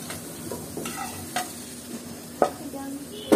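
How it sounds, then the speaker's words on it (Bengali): Potatoes frying in a pan make a soft, continuous sizzle, broken by a few sharp scraping and stirring knocks that grow louder toward the end. "আলুগুলো খুব ভালো করে ভাজা হয়ে গেছে, এখন আলুগুলোকে তুলে নিচ্ছি"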